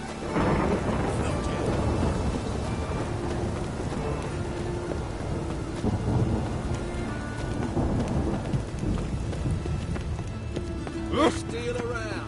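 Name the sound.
rain and thunder in video game The Witcher 3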